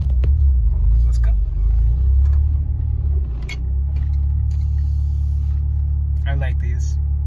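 A car driving on a road, with a loud continuous low engine and tyre rumble filling the interior throughout while a person talks over it, plus a few brief clicks and rattles.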